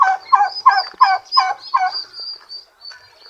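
A turkey gobbles on a backyard farm kept with chickens, giving about five loud, close, rapid rattling gobbles in a row before trailing off into fainter calls, with no talking.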